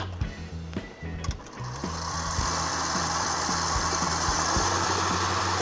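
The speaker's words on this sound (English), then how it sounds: "we'll put the bowl on the mixer, and we need to whip it using the whisk attachment" Stand mixer with a whisk attachment whipping meringue in a bowl, a steady motor whir with rhythmic low clanking of the whisk, starting after a few brief knocks and then running continuously and close.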